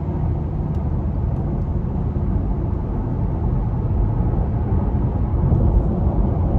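A 2020 Porsche Taycan 4S electric car accelerates with a steady, loud broadband road and drive rumble that swells slightly toward the end, heard from inside the cabin with no talk.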